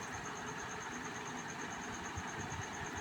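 A sewing machine stitches through layered fabric and lining cut from old pants: a steady, continuous motor drone with a thin high whine, unbroken and moderately loud throughout.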